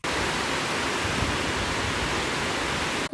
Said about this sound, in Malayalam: ആ മഴയ്ക്ക് വന്ന വെള്ളം കേട്ടോ